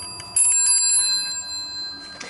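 The bells of an Ericsson N1970B telephone ring in a quick metallic trill, then the tone lingers and fades, close and clear, with a soft clunk at the end.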